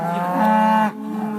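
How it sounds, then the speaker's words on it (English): A cow lows once on a cattle farm in Bethlehem Township, a single loud, close moo rising then falling off in just over a second. "cows of Cotton Cattle Farm in Bethlehem Township"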